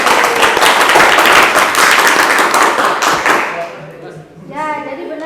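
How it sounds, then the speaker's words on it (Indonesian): A classroom of pupils claps for a classmate in a brisk, loud burst lasting a few seconds, then it fades into a teacher's voice. "tepuk tangan dulu untuk Ajis"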